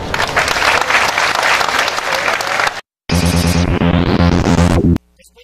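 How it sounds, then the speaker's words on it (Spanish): A crowd at a public event in Coahuila presenting taxis for people with disabilities breaks into loud, dense applause for nearly three seconds, then cuts abruptly to a brief burst of music. "Pido un aplauso fuerte para ellos."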